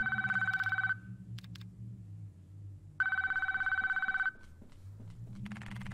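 A telephone rings twice in the pixel horror video game Dead Dreams, each burst a loud electronic trilling ring about a second long, separated by a pause, over a low ambient game drone.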